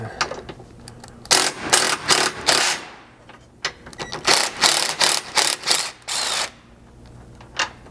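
A ratchet with a 15mm socket turns bolts on a Polaris Ranger cage, loud close bursts of rapid clicking in several runs with short pauses between them.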